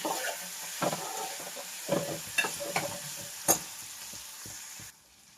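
Ingredients for green pulao being stirred in a pan with butter over medium heat, a steady soft sizzle broken by scraping clicks of the spoon, close by and without talk, fading out at the end.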